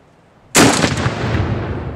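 A Hotchkiss 25mm anti-tank gun fires a live shell with a single sudden loud blast that rolls off into a long decaying rumble, with no voices.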